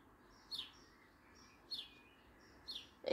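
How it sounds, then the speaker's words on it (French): A small bird sings faintly in the distance, repeating short high chirping phrases at roughly one-second intervals against a quiet background. "J'entends un oiseau."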